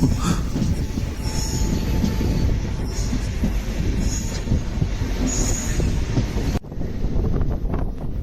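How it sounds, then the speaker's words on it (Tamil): The Mettur Dam Express passenger train departs Salem, rolling on the tracks with loud rumbling, wheel squeals and wind rush, constant and close, with a brief dropout near the end. "சேலம்லேருந்து வண்டி கிளம்பிருச்சு"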